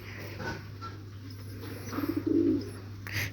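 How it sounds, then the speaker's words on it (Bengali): A pigeon gives a brief run of low, rolling coos midway, close and moderately loud, over a faint background hum with no speech. "দেখেন কবুতরটি কিরকম ডাকাডাকি করতেছে"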